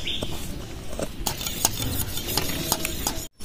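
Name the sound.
grinding poppy seeds into a paste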